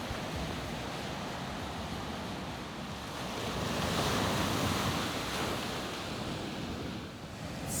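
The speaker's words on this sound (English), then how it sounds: "It might be a little loud due to the waves" Ocean waves surging and washing ashore in a continuous loud roar with wind noise on the microphone, swelling slightly midway, with no voices.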